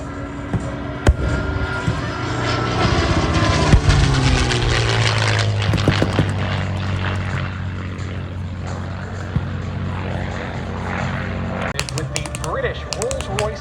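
A P-51C Mustang with a Rolls-Royce Merlin V12 engine flies a pass at the 2025 Columbus Air Show. Its droning propeller roar swells and drops in pitch as it goes by, under steady talk.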